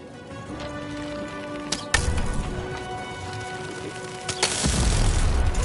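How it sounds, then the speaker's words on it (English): Cannon fire in the video game Lost in Random: two sharp booms a few seconds apart, then a heavier rumbling blast near the end, set against a steady game soundtrack. "Shoot the button to fire the cannon."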